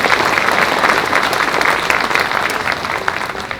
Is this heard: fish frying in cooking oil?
no